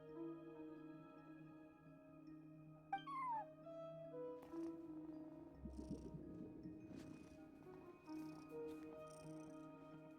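A cat at a front desk in the Genshin Impact video game gives a short meow, heard quietly over a steady ambient musical drone with faint scattered effects.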